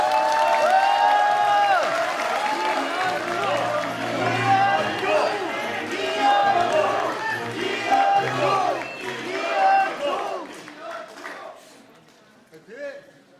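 A large indoor crowd at the launch ceremony of the United Future Party claps and cheers in a sustained wave of applause, with shouts mixed in, before it gradually fades to quiet.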